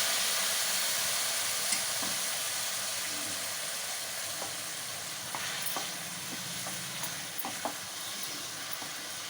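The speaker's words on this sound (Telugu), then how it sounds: "కొంచెం వాటర్ పోస్తున్నానండి" A pan of drumstick curry sizzles and hisses steadily as a little water goes in, the sound loud at first and slowly easing, with scattered spoon clinks and scraping close by.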